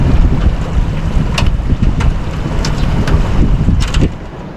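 Loud, continuous rushing of floodwater current after a night of flooding, a dense broadband roar with wind buffeting the microphone and brief sharper splashes, steady then easing slightly at the end.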